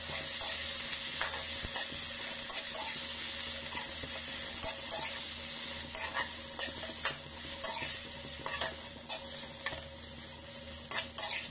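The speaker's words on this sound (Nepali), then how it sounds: "तेल पनि अब मजाले नै तातिसकेको छ र यसमा अघि मैले केलाएर राखेको माछालाई फ्राई गरेँ" Fish fries in hot oil in a home kitchen with a continuous bright sizzle and occasional stirring clatters, steady and close with no voices.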